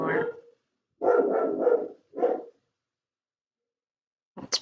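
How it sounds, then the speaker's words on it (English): Several dogs bark in short clustered bursts, fairly loud and close, with pauses of silence between volleys and a brief sharper yelp at the end. "Sorry about the barking."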